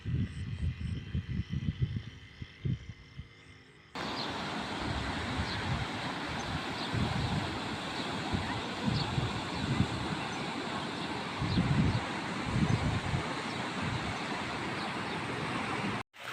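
Heavy rain pours beside a flooded river on farm roads, a dense, loud wash of hiss and patter that starts abruptly and continues without a break.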